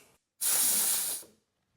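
A valve on a home-brew honey ale fermenter lets off CO2 pressure in one short, close, loud hiss of under a second, with silence on either side.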